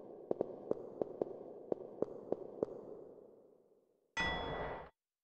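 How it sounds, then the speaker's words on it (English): A bell in the video game Parasite Eve rings in a quick series of about eight sharp, evenly spaced strikes that fade into a lingering hum, followed by a brief, loud electronic tone, with no talking. "That bell actually sounds like a boxing match"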